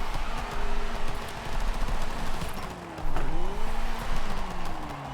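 Tires squealing as a car drifts in the racing game Forza Horizon 5, with a revving engine that rises and falls in long sweeps and wavering screech tones over about five seconds.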